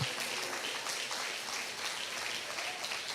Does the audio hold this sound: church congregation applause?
yes